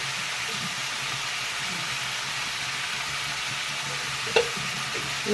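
Red amaranth stalk vegetables frying in a pan as turmeric powder goes in, a steady broadband sizzle with faint stirring clatter and one sharp utensil knock near the end, no talking.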